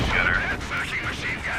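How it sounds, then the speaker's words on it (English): Artillery barrage in the strategy game Company of Heroes 2, rumbling distant shell impacts and a continuous battle roar, with a voice talking over it. "If I hit anything with this barrage"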